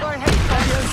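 A Stupefy spell goes off in Hogwarts Legacy, a sudden booming magical blast that bursts in loud and close after a brief quiet moment and rumbles on briefly.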